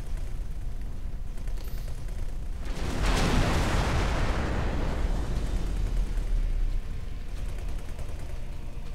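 A big explosion in the space game X4 Foundations erupts after a few seconds of low rumble, a loud broad blast that swells and then sustains as a roaring wash before easing off slightly.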